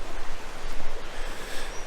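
Goit Stock waterfall on the edge of Harden Moor, running after rain following a dry summer: a steady, broad rushing roar of falling water with no pauses, fairly faint and even throughout.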